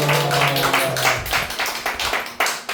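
A church congregation claps together during a Sunday service announcement, a fairly loud burst of overlapping hand claps with a brief held tone at the start, the clapping thinning into scattered, separate claps toward the end.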